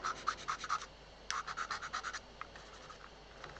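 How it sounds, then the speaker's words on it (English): Rapid scratchy strokes of sandpaper rub back and forth by hand on a 1/72 scale Bristol Brabazon model in two quick runs, close and fairly quiet, then trail off. "I just need a bit more sanding work down there."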